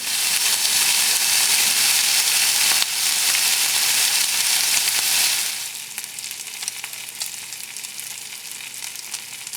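Kosher halal beef bacon frying in a pan, a loud steady sizzle that drops to a quieter, crackling fry about halfway through, with no voices.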